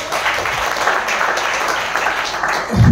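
A brief burst of audience applause at a teamwork talk, a dense wash of many hands clapping at once, loud and close for a few seconds.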